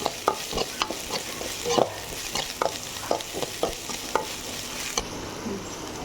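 Garlic and spices for rasam sizzle and crackle in hot oil, with repeated sharp scraping taps of a spoon stirring the pan at close range.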